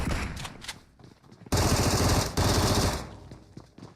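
Double-barrel shotgun fire in the PUBG Mobile video game: a loud close blast at the mid-point swelling into a dense roar, a second burst right behind it, then fading rumble and scattered clatter.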